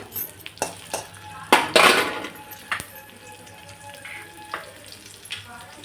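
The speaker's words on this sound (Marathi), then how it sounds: "कढई तापेलच, त्यासाठी जिरं आणि लसूण तळून घेऊ" Oil sizzles and crackles in a kadhai as cumin and garlic fry, with bursts of spattering, mixed with clinks and scrapes of a utensil against metal.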